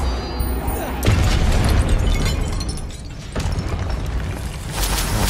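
A spell cast in a wizarding video game bursts out as loud, booming magical blasts, with two heavy rumbling surges separated by a brief dip, and a voice calling over them.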